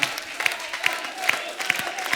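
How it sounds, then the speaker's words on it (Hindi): Studio audience at a Hindi comedy show taping clapping in a steady, evenly spaced rhythm, the claps faint and somewhat distant, with a soft room murmur behind them. "ओए, बजाते रहो, ताली बजाते रहो,"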